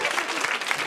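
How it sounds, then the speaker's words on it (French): An audience claps together in a brief, close burst of applause that runs through the whole short moment, with a voice faintly mixed in. "On applaudit"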